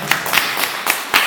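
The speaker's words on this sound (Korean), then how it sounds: "박수." Audience at a Korean church lecture clapping in short, sparse, separate claps, roughly five distinct hits, fairly close and moderately loud with no talking.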